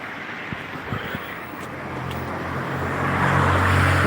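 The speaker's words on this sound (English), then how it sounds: "this is like the main dual carriageway down into the town and from the town" Traffic on a main dual carriageway into a town, starting with faint scattered knocks and wind, then a car approaching and passing with a growing, steady roar that stays loud to the end.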